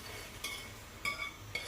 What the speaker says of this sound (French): J'ai retiré mes œufs en nettoyant un petit peu la poêle avec une spatule.